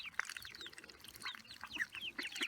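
Ducks and geese jostling at feeding, with scattered short calls and quacks overlapping in quick bursts, nearby and fairly faint.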